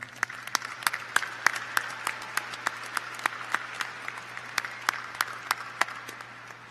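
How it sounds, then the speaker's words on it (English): A university commencement audience applauds the Chattanooga Brass Ensemble: a fairly sparse, moderately distant spread of clapping with individual sharp claps standing out over a steady low hum. "Please provide them your appreciation and applause now."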